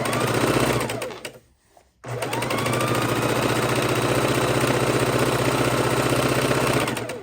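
A sewing machine stitches quilt border strips at a quarter-inch seam, running fast and loud in a steady rhythmic whir, pausing briefly near the start, then resuming and continuing without a break.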